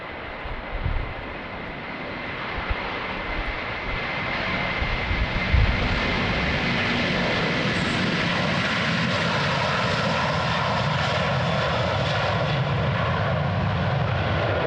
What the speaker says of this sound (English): Meanwhile, the A330 is already spooling up,